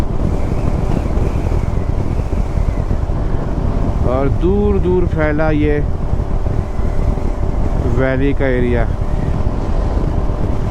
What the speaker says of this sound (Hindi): इतनी तेज़ हवाएं चल रही है कि गाड़ी कंट्रोल करना मुश्किल हो रहा है